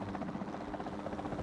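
Helicopter in the video game Jurassic World Evolution 2, a steady close rotor drone with rhythmic blade chop running loud and unbroken throughout, with no talk over it.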